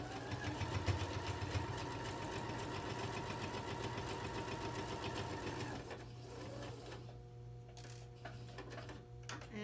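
A sewing machine back stitches the seam of a fabric bin, running in a steady, fast mechanical chatter for about six seconds before slowing into quieter, intermittent ticking and short bursts.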